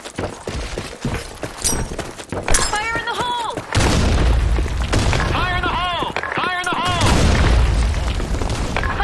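Grenade explosion in Counter-Strike on a sand-storm map: a heavy boom bursts out and rumbles on loudly amid gunfire, while radio-style voice lines play over the noise.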